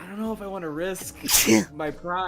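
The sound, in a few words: sneeze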